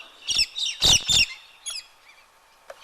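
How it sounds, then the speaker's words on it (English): Birds call around a campsite along an outback track, with several bursts of bright chirps and squawks close by, a short pause, then a few fainter calls and one sharp final chirp. "And the birds are making us welcome."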